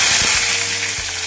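Chopped tomato dropped into hot mustard-style oil with black cumin seeds, giving a loud, steady close-up sizzle with faint stirring knocks underneath, no voices.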